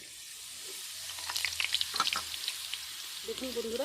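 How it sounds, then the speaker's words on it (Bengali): Thin boondi batter dripping through a sieve into hot oil, bursts of crackling sizzle as drops hit and fry, and a voice speaks briefly over the frying. "টপ টপ করে পড়ছে আর প্রত্যেকটা বুঁদিয়াগুলো গোল গোল হচ্ছে"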